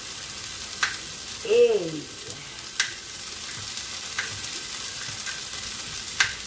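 Red onions fry in a pan with a steady soft sizzle, while a voice briefly calls out a word and faint kitchen clinks sound now and then.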